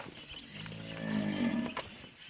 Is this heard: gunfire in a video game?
no